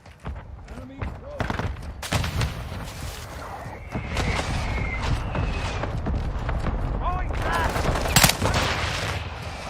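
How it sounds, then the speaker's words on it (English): Dense gunfire and explosive bursts from a video game firefight under an incoming mortar strike, loud and continuous with sharp cracks throughout, plus a game voice calling out alerts. "Hostile mortar strike incoming."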